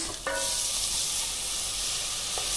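Finely chopped ginger and green chilies drop into hot oil already spluttering with curry leaves, giving a loud, steady close-up sizzle that hisses on without a break.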